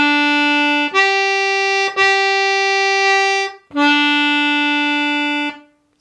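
Irish concertina playing sustained chords in Kit O'Mahony's Hornpipe, four long bellows-held notes with brief breaks between them, close and loud with no talk.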